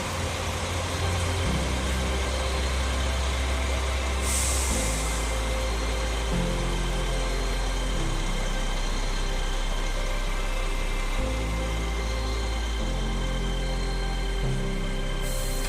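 Grandino coach bus number 8000 idles with a steady low engine rumble that shifts slightly in pitch now and then, a continuous near drone with no talk over it.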